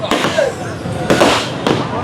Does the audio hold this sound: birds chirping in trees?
no